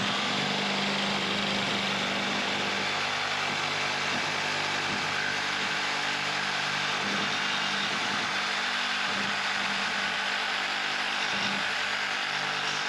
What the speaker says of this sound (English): get my Sawzall again, and I'm going to cut through the rubber